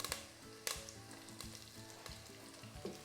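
Curry leaves sizzle in hot oil in a pan while chilli pappad is being made, a steady bright crackle with a few sharper pops and a spoon stirring now and then, close and alone.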